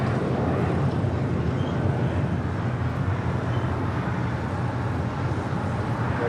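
An American Airlines Boeing 737-800 jet at LAX, bound for Phoenix, gives off a steady, broad jet roar that fills the whole stretch, loud and even, with no speech.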